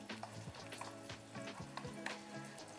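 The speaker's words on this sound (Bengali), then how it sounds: "বেগুন কটা ভাজা হোক।" Eggplant pieces fry in oil in a pan for a Bengali fish curry, a soft continuous sizzle with occasional light stirring taps, faint and without speech.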